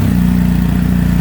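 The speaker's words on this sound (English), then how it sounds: "it just had an Akrapovic full titanium exhaust installed by Zack" A 2019 BMW R 1250 GS Adventure motorcycle fitted with an Akrapovic full titanium exhaust idles loud and close, a steady low throbbing engine drone with no talk.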